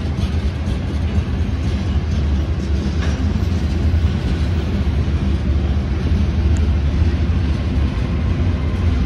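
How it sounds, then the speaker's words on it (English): A double-headed Union Pacific diesel-electric freight train rolls steadily past at Green River, a constant loud low rumble with faint clickety-clack, unbroken throughout and with no voices. "Diesel electric engine, and pull this string of trains in, these string of cars."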